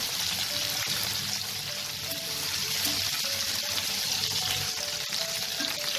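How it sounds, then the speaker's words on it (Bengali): Medium-sized tangra fish shallow-fry in hot oil, a steady, dense sizzle with scattered crackles and pops, close and continuous, with faint tonal hum underneath. "মাছগুলোকে আমি লাল করে ভেজে নেব।"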